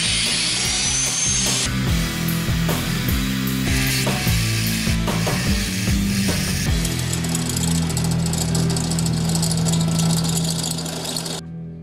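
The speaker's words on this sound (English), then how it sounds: "A bit of grinding and a couple of holes later" Power tools grinding and drilling a metal plate in a workshop, a continuous loud whine with shifting tones and rough rasping throughout, steady and close until it cuts off at the end.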